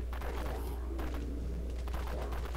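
A Sweeper gun firing in the zombie game Dead Frontier, heavy repeated blasts roughly a second apart over a dense, constant rumble of game noise.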